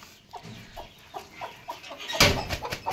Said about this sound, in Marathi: ही कोंबडी एक खूड आहे आपल्याकडे, आपण बसवणार आहोत।